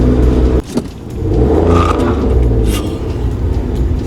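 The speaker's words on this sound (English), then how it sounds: "Fucking wheel spin." A car spins its wheels during a driving lesson: a loud engine drone and tire whir, broken by a brief clunk and scrape before the revving settles back in, with no talking.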